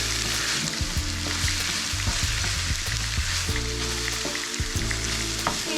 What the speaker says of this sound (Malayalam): ഇതിലേക്ക് ഇപ്പം നേരത്തെ ചതച്ചെടുത്തിരുന്ന പച്ചമുളക്, ഇഞ്ചി, വെളുത്തുള്ളി ഇതെല്ലാം കൂടി ഇട്ട് കൊടുത്ത് ഒരു 10 മിനിറ്റ് നേരം കൂടെ വഴറ്റിയെടുക്കണം